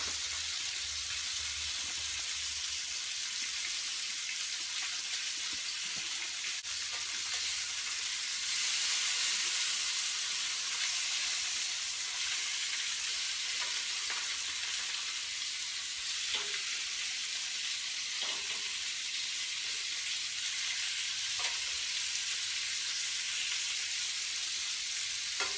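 Steak, onion and garlic sizzle on a cast iron griddle alongside snow peas and broccolini, a steady loud frying hiss with faint clicks of stirring and no voices.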